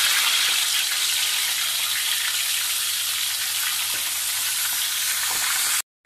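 Mud crab fries in hot oil with a loud, dense, continuous sizzle that holds steady for several seconds before cutting off abruptly near the end, with no talk.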